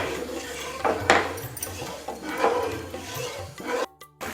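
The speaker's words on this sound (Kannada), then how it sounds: "ಅದು ಪಾಕ ಸಕ್ಕರೆ ಫುಲ್ ಕರಗಬೇಕು, ಅಲ್ಲಿವರೆಗೂ ಇದನ್ನು ತಿರುಗಿಸ್ತಾ ಇರಬೇಕು" A spoon scrapes and clanks repeatedly around a hot pot as sugar syrup is stirred for crispy khaja sweets, rhythmic metallic rubbing with a few louder knocks, followed by a short pause.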